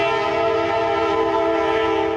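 A long freight train rolls loudly past close by in Folkston, Georgia, its sustained multi-tone horn blaring steadily over the rumble of the cars for the whole stretch.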